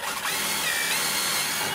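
Power drill fitted with a 5/32 bit boring holes for cabinet handles, a steady close whine with a brief pitch shift partway through, running alone without talk.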